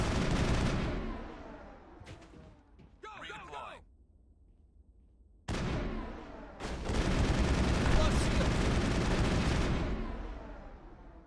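Gunfire with Shredder rounds in the Mass Effect video game, loud bursts of shots with rumbling impacts, broken by a brief quiet gap, then a long sustained barrage under game noise.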